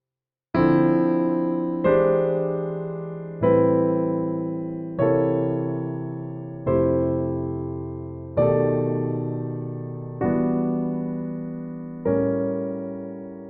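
Jazz piano comping, eight sustained chord voicings struck one after another about every one and a half seconds, each ringing and slowly decaying, close and clear with no talking.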